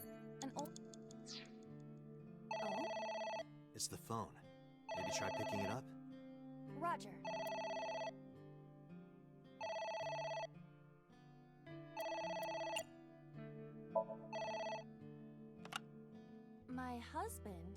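A telephone rings in the video game AI: The Somnium Files, with repeated electronic ring bursts in a steady on-off rhythm over game music, while a voice speaks briefly.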